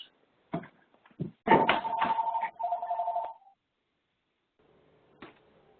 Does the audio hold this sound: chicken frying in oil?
no